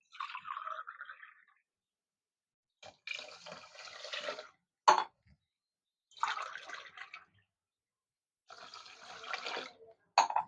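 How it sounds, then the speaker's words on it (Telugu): Measured water, three glasses for two glasses of rice, is poured from a glass onto washed rice. It comes in several separate short splashing pours with silent gaps between them. "ఇప్పుడు నీళ్లు కొలతేసుకొని వేసుకుందాం."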